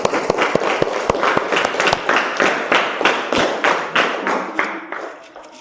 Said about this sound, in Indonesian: Tepuk tangan untuk Iza dari kelompok 3.